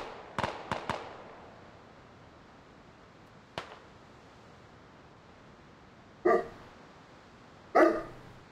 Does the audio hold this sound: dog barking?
yes